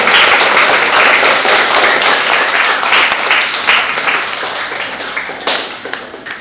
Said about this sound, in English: I'd like to offer them a round of applause if everybody can.